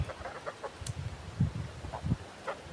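Geese nibbling at spilled feed on a self-sufficient smallholding in Hungary give soft, scattered clucking calls, a few short bursts spread across the moment, fairly quiet and close by.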